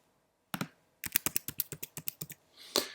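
Someone types a name and password on a computer keyboard: one isolated click, then a quick run of about a dozen sharp, close keystrokes, and a final louder key press, in a quiet room.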